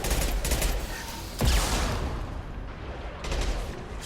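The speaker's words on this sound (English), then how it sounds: "Firing concussive shot." A concussive shot is fired amid a Mass Effect 2 firefight, one sharp close blast that cuts through dense, continuous gunfire and crackling combat noise, with no speech.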